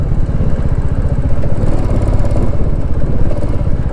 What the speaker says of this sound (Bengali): তার উপর দিয়ে আমি বাইক চালাচ্ছি।